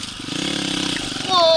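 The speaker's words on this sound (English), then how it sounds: "My bike's like dying." A small pit bike engine sputters and putters unevenly while riding through deep snow in a spring blizzard, close and loud. It rises to a harder, higher rev at the end.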